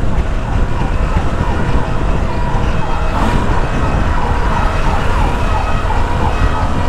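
A fire truck siren wails through dense, loud traffic noise heard from a Honda Sahara 300 motorcycle, steady and fairly close, with rumbling engines and honking underneath throughout.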